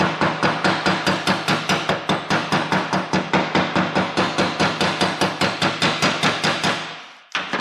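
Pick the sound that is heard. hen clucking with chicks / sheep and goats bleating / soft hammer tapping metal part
soft hammer tapping metal part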